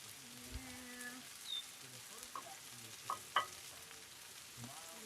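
Food fries on a griddle on a hot summer day, a faint, even background sizzle with a few scattered clicks and light utensil taps.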